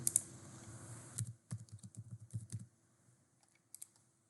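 Typing on a computer keyboard while building a Scratch programming project, a quick run of soft, close key clicks in irregular bursts, then a pause and a few last taps, with no talk.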